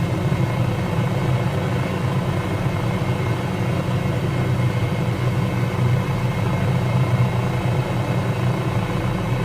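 MD500E helicopter in flight within Microsoft Flight Simulator over an estate and helipad, a continuous rumbling rotor and turbine drone at steady loudness, with no talk over it.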